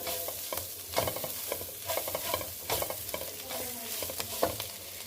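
A spoon scrapes and stirs a chicken stew mixture in a pan, where the chicken was cooked with vinegar. Soft, irregular clinks and scrapes repeat over a faint sizzle, with no talking.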